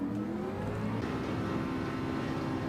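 A race car in Gran Turismo 7 drives at speed, its engine holding a steady, droning whine with slight shifts in pitch, continuous and fairly quiet with no talking.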